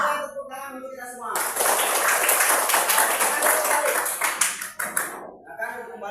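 A group of people clap their hands together in a classroom, a sustained round of applause lasting several seconds, with speech before and after it.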